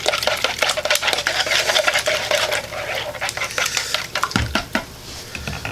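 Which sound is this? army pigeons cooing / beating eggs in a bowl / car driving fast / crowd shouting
beating eggs in a bowl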